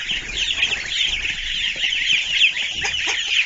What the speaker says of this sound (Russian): Цыплятки.